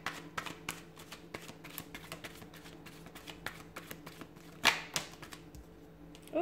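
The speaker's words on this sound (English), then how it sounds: "So we'll give the cards a shuffle here" A deck of tarot cards is shuffled by hand, giving close, quiet, rapid riffling flutters in short bursts with a few sharper slaps, and no talking.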